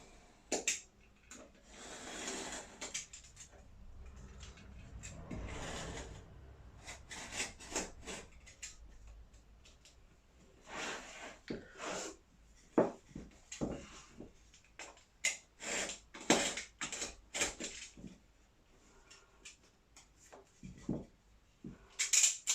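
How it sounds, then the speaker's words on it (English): A sharp utility knife trims excess leather in repeated short cutting and scraping strokes, close and fairly quiet, with scattered louder clicks and rubs. "we're just going to trim away the excess leather"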